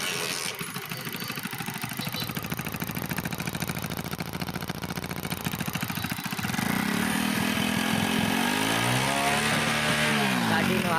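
A twelve-year-old Hero Splendor motorcycle with an engine fault that burns oil idles steadily at close range, and its engine note rises and grows louder partway through.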